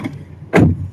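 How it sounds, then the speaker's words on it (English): A car door shuts once, a single loud, close thud as someone gets into his car, standing alone in the short quiet. "closing the door."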